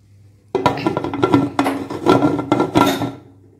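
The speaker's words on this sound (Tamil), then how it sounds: "இப்போ மூடி போட்டுடலாம்." A lid set onto a pot of vegetable biryani, heard as a burst of close, clattering metal-on-metal scrapes and knocks lasting about three seconds, with no talking.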